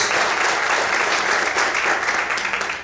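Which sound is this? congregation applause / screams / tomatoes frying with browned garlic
congregation applause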